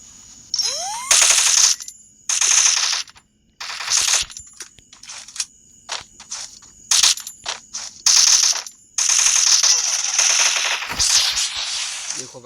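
Bursts of rapid automatic gunfire from the Free Fire video game crackle in short and longer volleys, separated by brief quiet gaps with small clicks and dings, loud and close with no talking.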